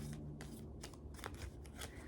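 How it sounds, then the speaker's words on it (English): A deck of tarot cards being shuffled by hand, a run of crisp riffling bursts and papery slaps in quick succession, close and quiet, with no talking. "it is so hard to shuffle this deck"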